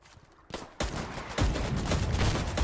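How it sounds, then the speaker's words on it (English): Sustained suppressive gunfire in a war video game, Company of Heroes 3 or Foxhole: a dense, continuous rattle of overlapping shots and bursts that starts sparse, then swells into loud, steady fusillade with no talking. "Keep suppressive fire, guys."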